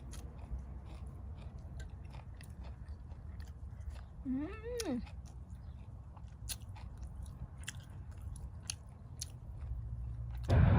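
Rice and steamed fish eaten by hand in a backyard garden: soft, close chewing and finger clicks over a steady outdoor hum, with a brief chirp midway and a louder bump at the very end.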